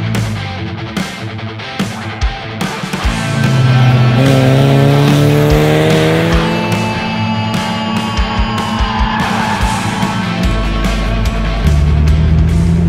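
A Mazda MX-5 NA Pro Cup race car on a circuit, its engine loud and close, revving up through the gears with rising and falling pitch and brief shifts, steady and sustained throughout.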